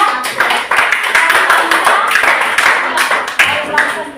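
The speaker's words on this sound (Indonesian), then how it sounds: "kita berikan aplaus untuk kelompok" Audience applause for a performing student group, a steady dense clatter of many hands clapping for several seconds, fairly loud and close, with faint voices mixed in.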